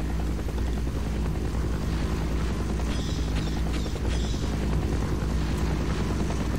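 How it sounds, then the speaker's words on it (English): Helicopter in the video game Half-Life, a steady, loud rotor and engine roar that holds constant throughout with no talking. "That's a helicopter."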